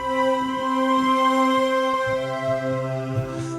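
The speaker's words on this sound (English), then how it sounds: "Kind of a weird voices thing." A synth sample preset called Alicious holds a dense, sustained chord of stacked tones with an eerie, voice-like quality, droning steadily on its own with faint low flutters underneath.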